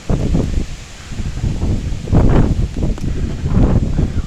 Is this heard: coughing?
no